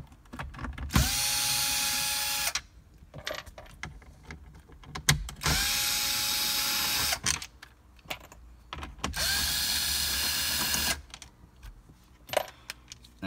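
A powered ratchet or driver zipping out 7mm bolts from the dash bezel of a GMC Canyon, three loud sustained whirring bursts separated by softer clicks and handling noises, close by without talk.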